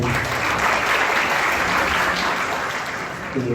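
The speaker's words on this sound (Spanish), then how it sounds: "un fuerte aplauso para el magíster César Ipenza" An audience at an environmental law session applauds a speaker with thick, continuous clapping that stays loud and even throughout, with no talk over it.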